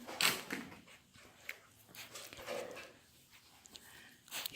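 A quiet, wrinkled bully-breed puppy makes faint, brief whimpers and snuffling sounds close by, in short scattered bursts over a soft indoor background.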